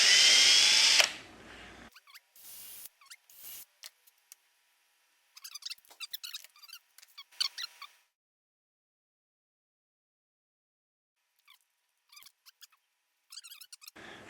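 A brief loud whir of a power drill, then scattered clicks, squeaks and handling noises amid silent pauses.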